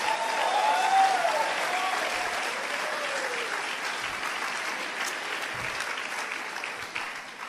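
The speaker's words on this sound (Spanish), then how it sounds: "¡Den un aplauso a Él!" A church congregation in Mexico claps for God during a sermon, a sustained wash of applause with a few cheers and voices early on, slowly easing in strength.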